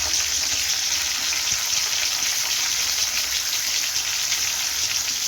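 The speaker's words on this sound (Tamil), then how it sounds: "எல்லாம் மொத்தமாக போட்டு சின்ன வெங்காயத்தோடு மொத்தமாக போட்டு நல்லா வதங்கட்டும்" Shallots, green chillies, curry leaves and garlic sauté in oil in a pan, giving a steady, close, continuous sizzle and crackle with no break and no voices.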